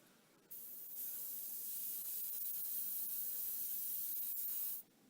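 Tamiya aluminum spray paint hissing from an aerosol can in one steady burst of about four seconds, close and alone with no talk.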